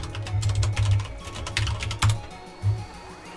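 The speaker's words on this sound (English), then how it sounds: "Type something random inside." Typing on a computer keyboard, a quick irregular run of close clicking keystrokes with a few heavier taps in between, no talk.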